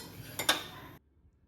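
A metal kadai pan set down on a stove while making kal dosai, a short clatter of metal with a couple of scraping knocks before silence.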